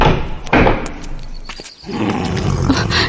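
A heavy dungeon door in a dark prison dungeon slams with a loud thud near the start, over a rumbling, roaring ambience with growls of big cats in the background, then a short lull before the dense roar returns.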